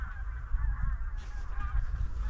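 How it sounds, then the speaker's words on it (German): Wild geese honking overhead during a driven hunt in Poland, a steady chorus of repeated nasal calls above a low rumble of wind and ambient noise. "da oben fliegen die Gänse"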